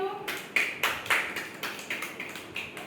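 A group of children claps for Shivam, giving a steady run of quick, fairly close claps in an even rhythm that fades slightly, with some voices in the background.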